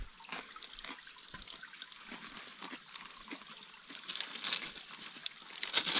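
Water runs steadily from a spout beside a mountain trail on Pico Paraná, a continuous splashing hiss with a slight rise in intensity toward the end.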